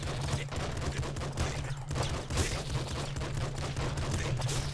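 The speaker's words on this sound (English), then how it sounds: "Machine gun." Machine gun fire in the top-down shooter Nuclear Throne: a dense, continuous rattle of rapid shots, loud and steady for the whole stretch with a low droning hum underneath.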